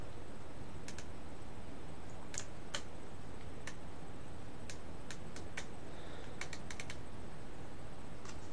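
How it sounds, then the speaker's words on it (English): Typing on a new computer keyboard: scattered sharp keystroke clicks, some in quick bursts, over a steady background hiss, fairly faint and with no talking. "I bought a new keyboard."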